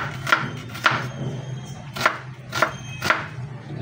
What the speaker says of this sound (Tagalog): Gagayatin lang po natin ng paganyan.